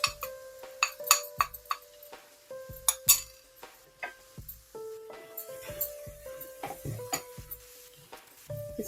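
Metal spoon scraping and clinking against a pan while semolina and gram flour are dry-roasted together, giving sharp, irregular taps and scrapes up close, fairly quiet, with no talking.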